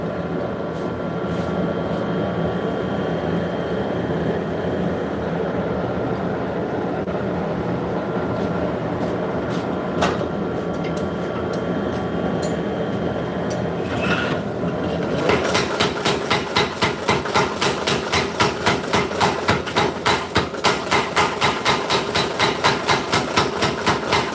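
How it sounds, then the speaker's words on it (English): Steady metallic hammer blows ring out in a fast, regular rhythm, forging a hot claw hammer head over a constant roaring forge background, growing louder and more even in the second half. "I'm going to try forging out this that claw hammer head."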